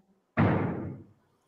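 A single heavy knock or thud on a door, sharp onset with a short booming decay, loud and alone with no talk.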